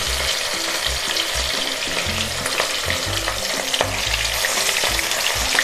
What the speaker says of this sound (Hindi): अब देखिए अब इसको हम फ्राई करेंगे। तेल अच्छा गरम कर लेना है, ये सरसों तेल है।